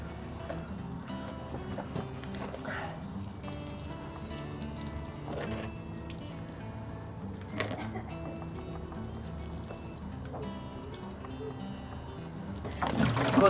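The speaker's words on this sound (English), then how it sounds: "give it a good soak in." Water is poured to soak a pea seed tray sown with vermiculite, a soft continuous trickle and splash at close range that swells louder toward the end.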